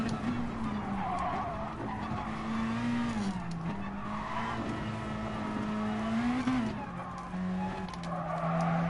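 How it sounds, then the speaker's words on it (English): A car skids and squeals its tires while driving in a video game, with a steady droning engine and wavering screech throughout, loud and continuous with no pauses. "this car is pretty uncontrollable right now, the way I'm driving it"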